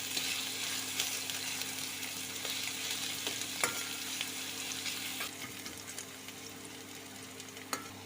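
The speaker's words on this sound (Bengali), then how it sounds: "তেলটা গরম হয়ে গেলে অ্যাড করব পেঁয়াজ কুচি। পেঁয়াজটাকে ভালোভাবে ফ্রাই করে নেব।" Chopped onions fry in hot white oil, a steady close sizzle with occasional stirring scrapes and clicks against the pan.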